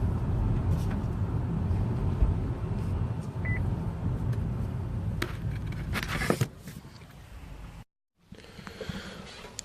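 Buick Cascada convertible rolling along a road with its top down, steady wind and road rumble close around the cabin, a few sharp clicks and bumps, and a brief dropout before the noise resumes.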